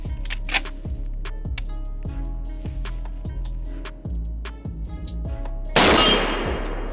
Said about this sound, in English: let's go ahead and take some shots at 50 yards